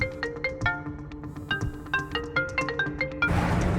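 A melodic electronic ringtone plays a quick, repeating sequence of bright tones, ending in a burst of broadband noise.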